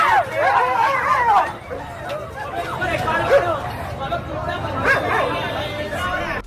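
A dog barks in short bursts while fighting a baboon, the yelps mixed with background chatter and a voice talking over them.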